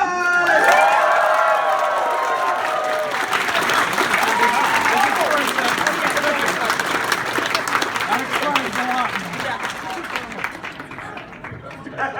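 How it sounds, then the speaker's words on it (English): Sustained crowd applause with cheering and shouting voices at a furry convention closing ceremony, loud and dense throughout, with chanting and calls rising over the clapping. "Give a round of applause."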